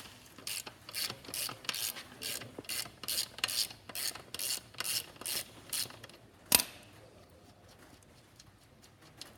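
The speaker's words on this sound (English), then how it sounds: "we're going to loosen the axle nut, or you can get rid of it as well" A ratchet loosening the axle nut on a motorcycle wheel, a close series of rhythmic clicking strokes, each a quick burst of pawl ticks, repeated steadily before a single sharp knock and then quiet.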